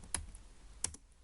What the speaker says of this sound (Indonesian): klik CMD lalu enter, kita ketikkan ping